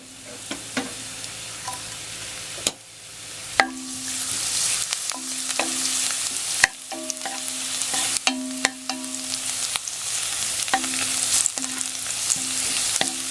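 Garlic sizzles and crackles in hot cooking oil for a Filipino spicy beef caldereta, a steady close frying hiss with intermittent clinks and stirring knocks, no voices.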